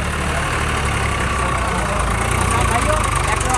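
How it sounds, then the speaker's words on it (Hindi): An old tractor idles at an outdoor used-tractor market, giving a steady, close low rumble that runs the whole time, with faint crowd noise behind it. "ट्रैक्टर आई आपके सामने है ये"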